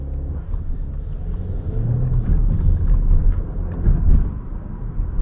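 A BMW M140i accelerates away with a deep, rumbling engine note that swells and peaks twice before easing, loud and close with no talking over it.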